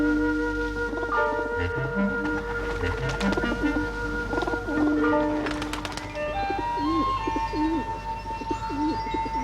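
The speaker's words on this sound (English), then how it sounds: "The pigeons have been back for ages." Pigeons cooing in a 1980 countryside scene, soft throaty coos repeating against a bright, tinkling musical score that plays loudly over and around them.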